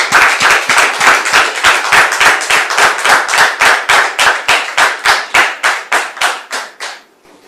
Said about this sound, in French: Public, merci de recevoir son père en question sous vos applaudissements.